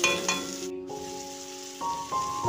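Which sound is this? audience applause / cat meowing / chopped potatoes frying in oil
chopped potatoes frying in oil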